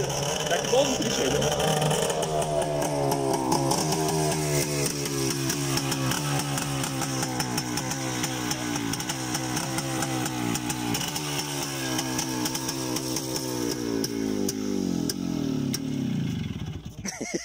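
A Voskhod two-stroke motorcycle engine runs loud and close with rising and falling revs for most of the span, then sputters out and stalls near the end, with voices talking over it.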